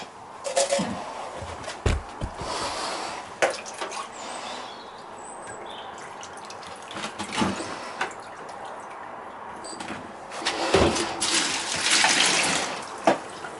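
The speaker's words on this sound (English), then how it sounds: "So we'll try and wash as many of the foils down as we can into this bucket." Water splashes and trickles as gold foils recovered from RAM sticks are rinsed down into a bucket indoors, with intermittent pours, drips and louder gushes over a steady running wash.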